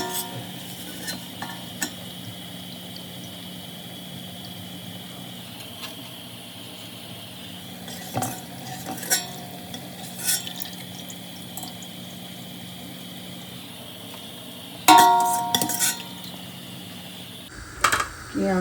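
Sliced onions frying in hot oil over a high flame and being stirred, with a faint, steady sizzle and occasional scraping clicks from the spoon against the pan.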